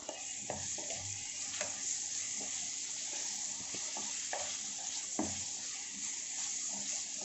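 Chopped tomatoes frying in a pan for chicken curry, a continuous close sizzle with intermittent spoon scrapes and clinks as the pieces are stirred.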